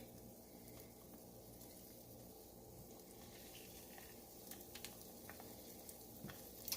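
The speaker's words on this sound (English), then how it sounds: "I can hear it sizzling now" Steady sizzling of chicken frying in a pan for sweet and sour chicken, a continuous crackling hiss with occasional louder pops near the end.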